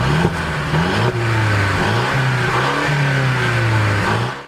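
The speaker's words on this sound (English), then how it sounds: "So how does this car sound?" A Mercedes W205 C300 engine revs loudly and close by, climbing in repeated surges with brief drops between them as the gears change, with no talking over it.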